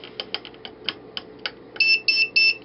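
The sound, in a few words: electronic lock beeping for incorrect code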